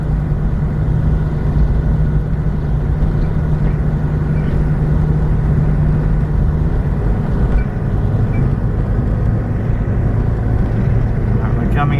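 A Hyundai Excel/Accent drives along a road, giving a steady, loud low engine and road drone inside the cabin for the whole stretch, with no clear breaks.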